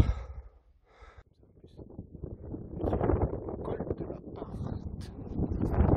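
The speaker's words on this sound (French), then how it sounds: "il y a du vent" Strong wind buffets the microphone in gusty, rumbling bursts on a mountain pass, easing briefly before building again into a steady roar.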